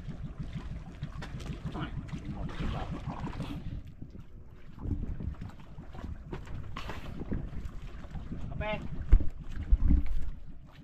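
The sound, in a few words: boat passing on water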